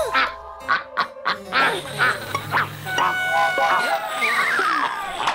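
Cartoon ducks quack in quick, nasal, honking bursts, loud and close, overlapping one another. Squeaky animated effects and a voice are mixed in.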